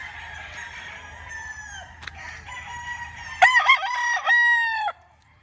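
White Kelso gamefowl roosters crow on a game farm, one long nearby crow followed by a louder, ringing crow with a faint background hum.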